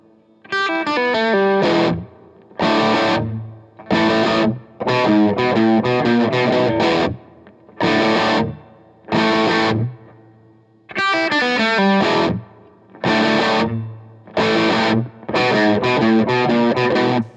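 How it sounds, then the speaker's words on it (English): Electric guitar plays crunchy, distorted chord stabs and short riffs through a Marshall Origin 20 amp with the tilt control at 10, loud and bright, alone with short pauses between phrases. "if we turn that tilt control to 10, it basically is mimicking the bright channel of a Plexi."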